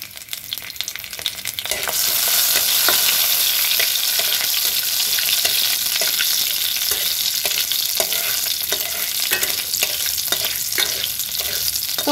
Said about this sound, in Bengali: তেলে আমি ফোড়ন হিসাবে দিয়ে দেবো একটুখানি কালো জিরে, আর দিয়ে দেবো যে কাঁচা পাকা লঙ্কাটা রেখেছিলাম সেটা